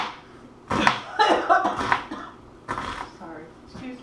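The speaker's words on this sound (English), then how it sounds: "then chop it like this" Knife chopping potatoes on a board for potato soup, a few quick close thuds and clatters in short bursts, with a voice talking quietly in the room.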